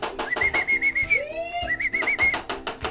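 A racing pigeon arrives at its loft after a 339-369 km derby race in Vigan, with a warbling whistle-like tone, a short rising coo and a quick rhythmic patter underneath, close and fairly loud.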